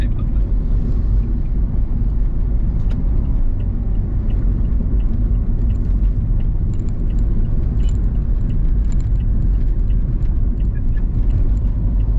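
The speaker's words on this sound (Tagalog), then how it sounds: "Madaming tricycle." Tricycles pass on a road between Zambales towns, a constant loud low rumble of small motor engines and traffic, with faint voices under it.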